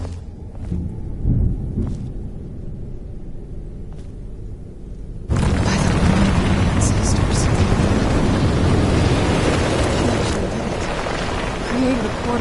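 A low rumble gives way to a sudden, loud, roaring whoosh that swells and holds as a portal bursts open from a soul cannon in Skyrim Dawnguard.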